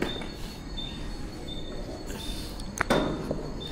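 An Asangaon-bound local train stands at Nahur station late at night, a steady rumbling hum with a faint tonal whine and a brief metallic clank near the end.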